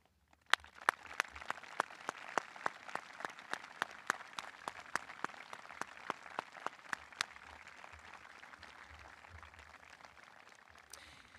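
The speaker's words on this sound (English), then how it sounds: "I call upon you, the senior class, to offer them a round of applause" A high school commencement audience applauds the faculty, opening with a run of sharp, distinct claps that settle into steady, fairly distant applause from a large crowd, with no voices.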